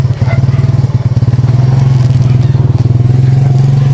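A motorcycle engine runs loud and close with a steady, throbbing idle and a rapid pulsing rhythm that continues throughout.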